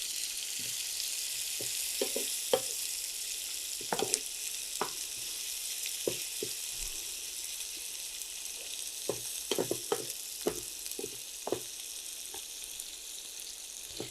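Pumpkin pieces fry with dried chili in a pan, a soft steady sizzle broken by scattered sharp clicks and scrapes of stirring, fairly close and without speech.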